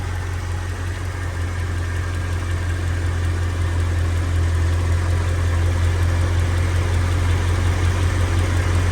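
A Mercedes CL55/CL600 W215 idles while warming up, a loud, close, even engine hum with a low steady drone held throughout and no speech.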